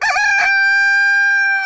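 Rooster in a chicken coop crowing loudly and close, a long sustained cock-a-doodle-doo after a short rough start, heard alone.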